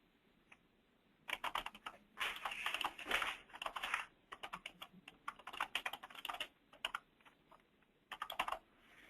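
Someone types a file name on a computer keyboard, close quick clusters of key clicks in irregular bursts with brief pauses between, faint overall and heard alone.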